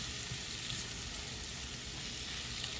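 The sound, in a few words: butter melting and sizzling in a pan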